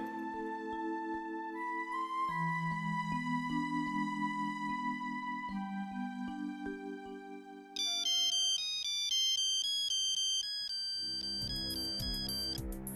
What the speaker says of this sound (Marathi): रिंग वाजते.